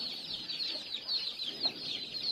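Young Reachu Vatam chicks, around two months and fifteen days old, keep up a faint, steady run of high peeping chirps with a few low clucks, heard nearby and without voices.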